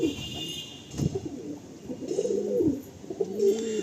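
Pigeons for sale at a market in Sonarpur coo close by in soft, rolling calls that repeat, with faint background noise around them.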